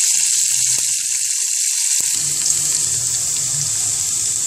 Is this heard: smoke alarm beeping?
no